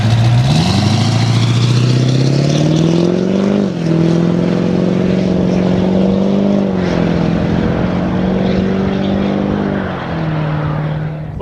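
An old pickup truck fitted with an aftermarket performance exhaust runs loud and close. The engine sweeps up in revs, then settles into a deep, steady rumble with small rises and dips.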